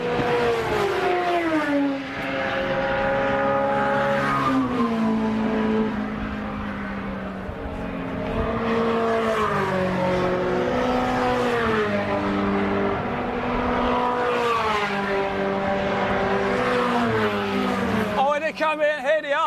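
MG Cup race cars rev at Silverstone, engines loud and continuous with pitch climbing and falling through gear changes, while a commentator talks over the roar.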